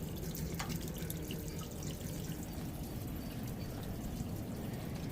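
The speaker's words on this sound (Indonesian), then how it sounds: "kita coba tutup keran yang debitnya paling kencang" Water runs steadily from a tap with faint dripping and splashing, a constant low wash throughout.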